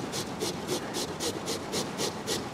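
Potatoes are scraped across the large holes of a grater in a steady rhythm of about eight raspy strokes, each a short bright rub, close and fairly quiet.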